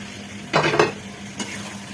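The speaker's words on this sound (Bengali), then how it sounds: "ভাজা মাছগুলো দিয়ে কিছুক্ষণ নাড়তে হবে যাতে আলু বেগুনের সাথে মাছটা ভালো করে মিশে যায়।" Fried fish stirred into potato and brinjal in a pan: two brief, close scraping strokes of a spoon over a faint background sizzle.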